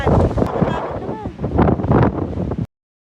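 Strong, gusty wind buffets the microphone atop the Seaford white cliffs on the English coast, a loud rumbling roar with voices talking over it before it cuts off abruptly.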